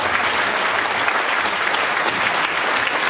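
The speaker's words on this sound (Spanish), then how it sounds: "creo que se merece de parte de todos un fuerte aplauso" Steady, dense applause from a festival crowd honoring the 2016 neighborhood queens of Barrio de San Roque in Novelda, a continuous wash of many hands clapping, close and uninterrupted.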